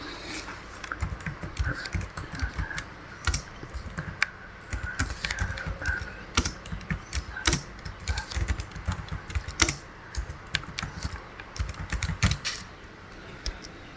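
Fast, uneven clatter of keys on a computer keyboard while entering text into an Excel spreadsheet, continuous taps over a soft background hum with no talking.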